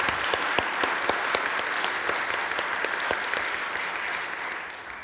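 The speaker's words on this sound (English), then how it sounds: "maybe another round of applause for him and his beautiful story" An audience gives a round of applause for Deacon Chuck after his talk at a gathering, with sharp, distinct claps over a dense wash of clapping that fades slightly toward the end.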